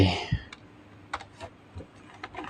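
Ctrl+T pressed on a computer keyboard while building a table in Excel, a few light, close keystroke clicks scattered over a short span against faint room noise, after a brief opening thump.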